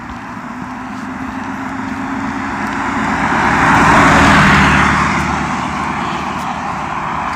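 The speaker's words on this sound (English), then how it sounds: "When there's not much traffic, you'll hear a car coming." A car passes along a quiet street, its broad tire and engine rumble swelling from a distance, peaking loudly near the middle, then fading away again.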